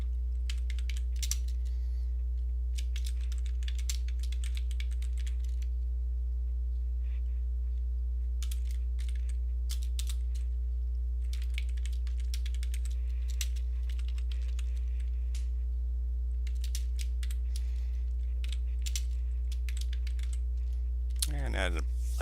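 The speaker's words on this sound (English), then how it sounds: "There I'm going to type this title" Bursts of close keyboard typing as a title is entered on a computer keyboard, clusters of rapid clicks separated by pauses, over a constant low electrical hum, with a brief sharp sweep at the very end.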